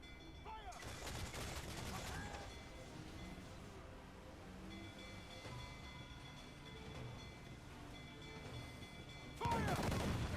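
Ship cannons firing in the pirate game Assassin's Creed Black Flag, a loud booming volley at the start and another burst at the end, with rumbling battle noise continuing between them.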